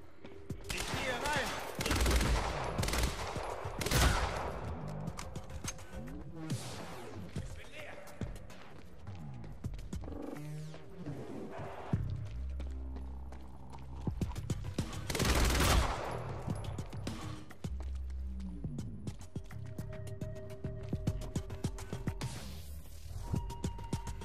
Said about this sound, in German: Schießt jetzt schon wieder.